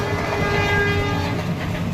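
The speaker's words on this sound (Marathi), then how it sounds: "रेल्वे आलेली आहे" A passing train rumbles loudly and steadily throughout, with a sustained horn-like tone sounding over the rolling noise, and no one speaks.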